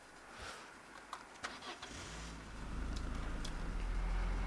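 A car engine turns over and starts in the video game Altis Life, a few faint clicks first, then a rising idle that settles into a loud, steady low rumble.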